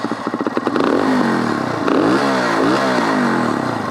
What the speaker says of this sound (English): The exhaust note for this KPR is way better than most other bikes in this segment.